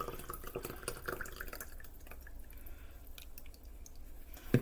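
Drained grease from chili meat pours into a measuring cup with faint, close trickling and dripping liquid sounds, and a small knock at the very end.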